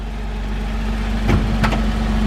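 A 1983 Buick Regal's original 3800 V6 idles steadily under the open hood, then the throttle is tapped twice in quick succession, each blip a short rise in revs before settling back.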